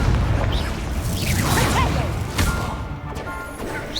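Fire spell Incendio cast in the Hogwarts Legacy video game, a loud whooshing burst swelling within constant combat noise, with swishing magical sweeps and a thudding impact around the middle.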